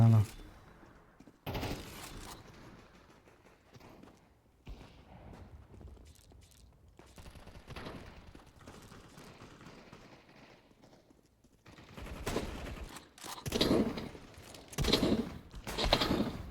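Gunfire in the Counter-Strike 2 video game comes in sharp bursts, a few early and a denser cluster toward the end, amid quieter footsteps and game noise, with someone speaking at times.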